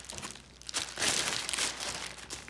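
A plastic trash bag gown crinkles and rustles as it is flipped over and taped, with bursts of crackling texture close by and no talking.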